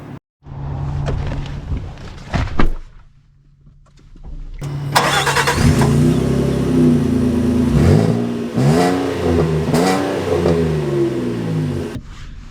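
A 2025 Nissan Frontier King Cab pickup engine cranks and fires, then settles. It revs up loudly and pulls through several rising gear surges, close and steady, before cutting off abruptly.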